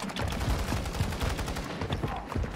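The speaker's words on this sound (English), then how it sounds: "Shot an AR here." Assault rifle fire in an online shooter game: a dense, continuous stream of rapid automatic shots, loud and close, filling the whole stretch without pause.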